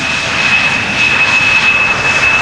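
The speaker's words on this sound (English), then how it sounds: "Well, it is another Embraer." An Embraer jet arriving at Amsterdam Schiphol gives a loud, steady engine roar with a sharp high whine running through it, sustained and close, with no voices.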